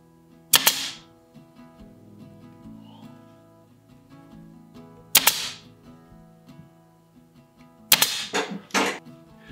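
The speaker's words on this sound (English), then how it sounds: "fire a staple in here, make sure it's lined up with the bottom of the top rail" A staple gun fires staples into a wooden chair leg during seat weaving: three sharp, loud snapping shots spaced several seconds apart, the last a quick double, with quiet handling noise between.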